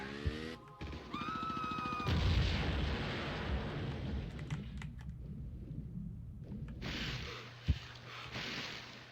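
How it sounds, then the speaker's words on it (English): Gunfire and booming impacts rumble through a Tomb Raider II run, with a thick, continuous low roar broken by sharper cracks and one loud bang near the end, and no talking. "Hey, stop shooting me."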